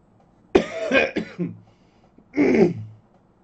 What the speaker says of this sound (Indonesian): Maafkan saya saudara kerana batuk, masih dalam proses pemulihan.